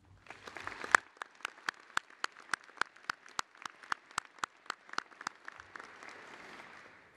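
Sparse applause at a university convocation ceremony: a short burst of clapping, then a slow run of distinct, evenly spaced single claps that soften into a faint murmur.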